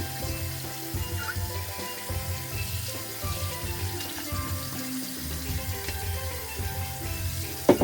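Tap water runs steadily into a vessel while jerk turkey is being prepared in a kitchen, a continuous close splashing flow that lasts the whole stretch with some faint clinks.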